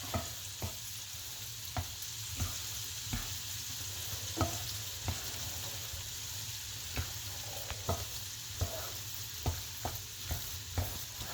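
Scallop risotto with Comté cheese being stirred in a pan, a steady soft sizzle under repeated scraping strokes of the spoon at an even rhythm, close and moderately quiet with no one speaking.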